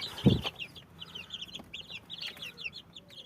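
A flock of egg-laying hens clucks continuously in quick, overlapping calls, preceded by one brief low thump near the start; close and moderately loud, with no talking.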